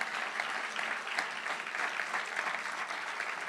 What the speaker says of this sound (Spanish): eso merece un aplauso, ¿no les parece?